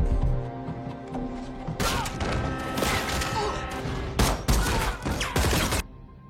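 A gunfire exchange in an action film arrives as dense, overlapping bursts of shots with thuds and crashes, building into loud rapid volleys over a rumbling background before cutting off abruptly.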